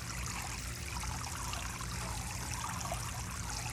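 Paper pulp sloshes and trickles in water as a steady wet wash, faint and continuous, with no voices over it.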